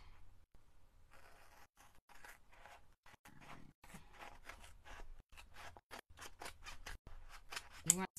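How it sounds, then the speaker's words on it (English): Scissors cutting apart a reusable craft stencil for a Santa design: repeated short close snips in a quick uneven rhythm, fairly quiet, with brief pauses. "And we're going to cut this apart."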